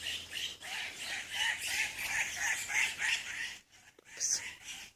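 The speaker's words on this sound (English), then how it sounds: "A couple of birds having a tiff." Two birds squabble nearby in rapid bursts of sharp, scratchy chirps and clucks that come in a steady rhythm, then drop away briefly before a final squawk.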